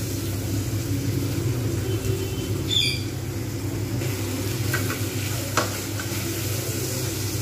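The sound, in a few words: stir-frying spices in a pan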